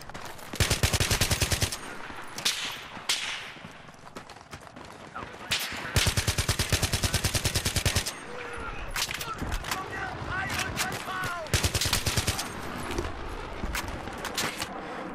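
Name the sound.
AN-94 rifle gunfire in the video game Battlefield 3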